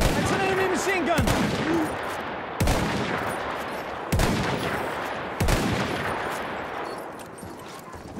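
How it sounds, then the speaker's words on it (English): An enemy machine gun firing in a World War I battle in Battlefield 1, with heavy shots and booming impacts recurring every second or so among continuous battle noise and shouting voices. "That's an enemy machine gun!"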